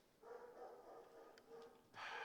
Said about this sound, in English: I'm very sorry about the barking.